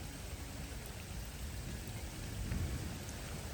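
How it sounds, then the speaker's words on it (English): A rainstorm with rumbling thunder sweeps over an outdoor fishing spot, steady rain hiss throughout with a deep low roll swelling briefly near the end. "Sadly, it did start to rain, so we did have to pack things in a little bit early."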